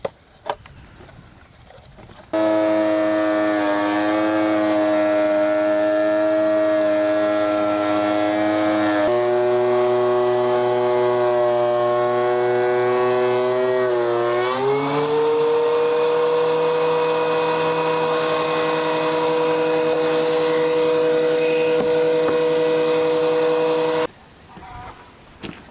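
A woodworking planer labours through big pieces of wood, a loud sustained motor drone that holds steady, shifts pitch as the cut loads it and then winds down, close and alone.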